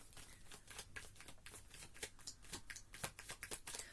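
Tarot cards being shuffled by hand, a quick run of soft riffling flicks and slaps close up, steady and faint with no talking.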